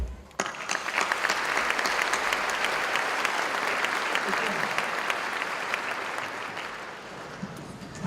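Sustained audience applause at a university commencement ceremony in Eastern Kentucky, welcoming a speaker to the podium; dense, steady clapping from a large crowd fills the whole stretch, fading slightly near the end.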